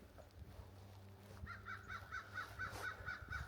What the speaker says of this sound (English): That's a crow.